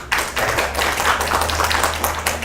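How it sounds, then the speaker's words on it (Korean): An audience at a Korean career mentoring event claps in a dense burst of applause, loud and close, with no talk over it. "큰 박수로 청해 듣겠습니다"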